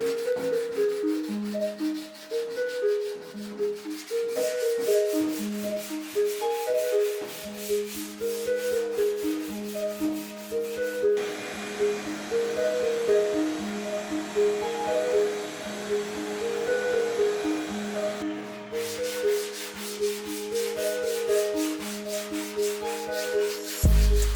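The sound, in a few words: block sanding car primer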